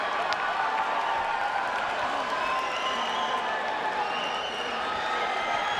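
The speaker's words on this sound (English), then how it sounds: "The adoring crowds of Filipinos" A large crowd of Filipino boxing fans cheers and applauds in a continuous dense roar that holds steady and loud, with a commentator's voice running faintly underneath.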